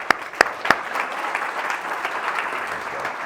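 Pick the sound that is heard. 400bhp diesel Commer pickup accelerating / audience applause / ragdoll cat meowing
audience applause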